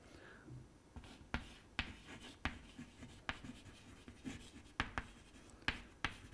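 A lecturer writes during a lecture on 1g analogue modeling, producing sharp, irregular taps and scratchy strokes at close range, a steady uneven rhythm of marks with no talk over them.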